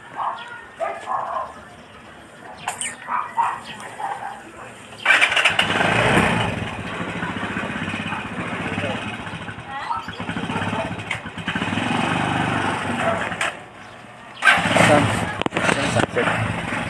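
A motorcycle engine fires up and runs loudly nearby, rumbling steadily for several seconds and revving again near the end, while a dog barks and people talk throughout.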